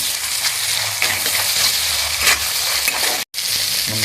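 Spice mix with ginger paste and tomato sautés in hot oil for a vegetarian khichuri, a continuous close sizzle with scraping stirs and one brief dropout.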